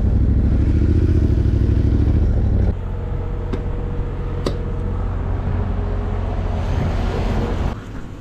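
A Raptor motorcycle engine that had lost all its oil idles loudly with a rough, clattering rumble, dropping to a lower, steadier chug partway through and settling quieter near the end.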